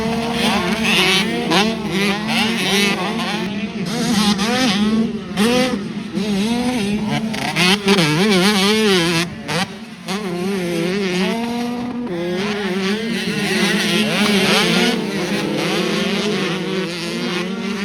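Motocross motorcycles race at Fox Raceway during a Loretta Lynn's regional qualifier, several engines revving and shifting up and down continuously at close range, a loud, dense pack with pitch rising and falling throughout.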